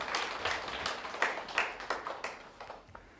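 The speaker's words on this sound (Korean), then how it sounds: "자기 자신에게 한번 박수를 한번 보내주세요" A seminar audience of newly certified real estate agents claps, a quiet scattering of distinct hand claps with uneven rhythm that thins out and fades toward the end.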